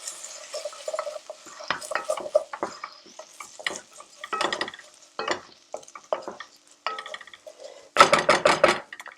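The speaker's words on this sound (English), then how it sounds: "at this point I'm going to give them a wee stir" Lentils being stirred in a pot make a run of close, irregular scrapes and clatters of a spoon against the metal, ending in a louder burst of rapid scraping, with no voices.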